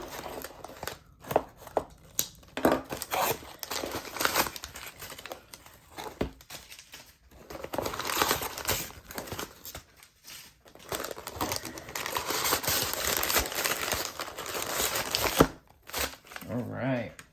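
Packing tape being pulled and torn off a knife package, a crackling, crinkling run of tearing and rustling close to the microphone, broken by short pauses.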